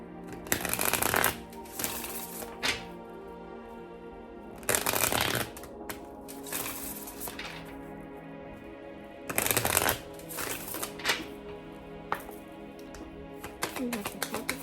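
Deck of chakra cards being shuffled, several loud riffling bursts up close, with softer card handling and faint background tones between them.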